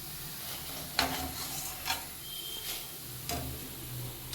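Cauliflower 65 pieces frying in hot oil, a steady sizzling hiss broken by a few sharp clicks and stirring taps of a utensil against the pan, with no voice.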